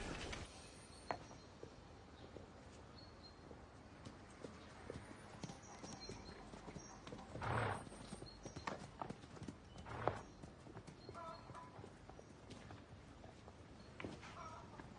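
Horses walking with clip-clopping hooves in a 2015 French wartime film, irregular hoof strikes close by with a few louder knocks, steady and faint, over a quiet outdoor background without talk.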